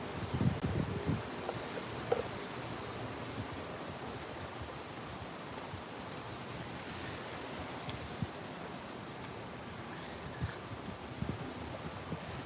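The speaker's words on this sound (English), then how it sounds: "These trees over here always get real crazy in the wind because they're so tall." Steady broadband rush of wind blowing through tall trees as a storm approaches, a continuous roar of rustling foliage with a few louder gusts near the start.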